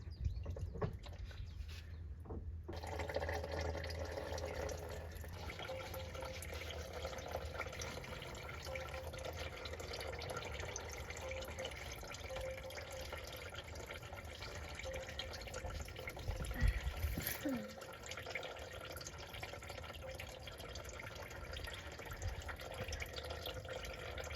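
Engine oil draining from a 2023 Nissan Sentra into a pan, a continuous steady pouring trickle with faint splashing, moderately close, no talking.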